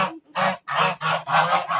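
Domestic geese honk loudly and close by as they are let out of their shelter, a series of repeated harsh bursts with short gaps between them, and no talking.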